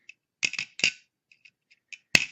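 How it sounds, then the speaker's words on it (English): Pliers snip and crunch through the plastic housing of a damaged 3D printer heatbed connector, giving a few sharp close clicks and cracks with short pauses and then one final louder snap. "you take a pair of pliers. You can't do this connector any more harm than it's already been done, and you just start cutting away at the plastic."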